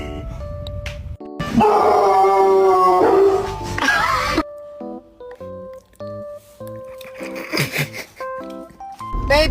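A pet dog howls in a drawn-out, song-like wail with wavering pitch, loud and close, rising and falling over several seconds before breaking into shorter yips and whimpers.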